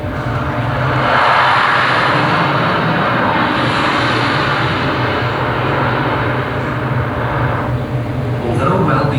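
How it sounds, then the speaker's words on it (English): A jet aircraft flies through, its loud, continuous roar filling the whole stretch and swelling slightly in the middle, with no pause or break. "Two incoming enemy aircraft approach."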